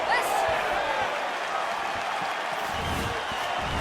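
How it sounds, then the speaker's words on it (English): A video-game crowd in UFC 4 roars steadily throughout a women's strawweight bout as an outside leg kick lands, forming a loud, dense wall of arena noise with no clear individual voices. "can you hear the reaction from the crowd as another outside leg kick lands?"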